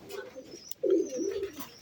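Flying pigeons coo close by in a soft, low, rolling call that swells in the middle and fades, with quieter bird sounds around it.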